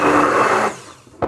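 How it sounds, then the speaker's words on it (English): A handheld immersion blender whirs loudly while emulsifying homemade mayonnaise with apple cider vinegar, then cuts off, followed after a short pause by a brief clunk. "And I just got to get it off my immersion blender."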